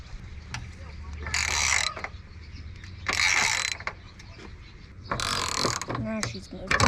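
A ratchet works on a nut and a bolt holding a Ford Fusion coolant tank, giving three bursts of quick, crisp clicking separated by pauses over a low engine-bay hum, with someone talking quietly.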